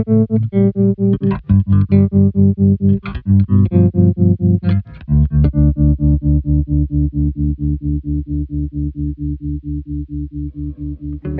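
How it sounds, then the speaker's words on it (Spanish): A bass guitar plays through a compact Boss TR-2 tremolo pedal, sustained low notes pulsing in steady, rapid volume throbs, loud and close, with a brief break before a long held note that keeps wavering. "¿y alguna vez has escuchado un bajo con trémolo?"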